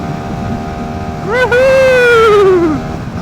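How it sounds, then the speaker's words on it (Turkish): CFMOTO CL-X 250 motorcycle, a 249 cc liquid-cooled six-speed, accelerating in fourth gear on a windy road; a rising then falling engine tone swells for about a second and a half over steady wind noise, with a voice talking. "Şöyle motorun hızlanmasına da bakalım değil mi? Bak. Dördüncü vitesteyim. Gazı bir açtım."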